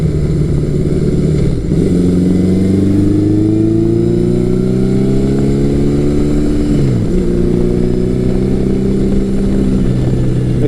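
A classic Yamaha superbike engine (FJ1200, XS1100 or Maxim 1100 era) revs up steadily out of corners, pitch climbing in smooth sweeps with a brief dip at a gear change, loud and close with no talk.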